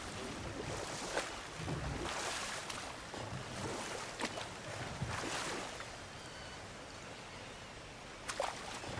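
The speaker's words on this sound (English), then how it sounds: "Waterfalls. We're close." A waterfall at Goddess Falls in God of War Ragnarok rushes in a steady, broad wash of water noise, with a few brief louder splashes and swells rising over the continuous flow.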